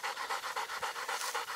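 An exhausted German Shorthaired Pointer pants hard in summer heat, a fast, even rhythm of breathy huffs, close and alone, about a dozen quick breaths.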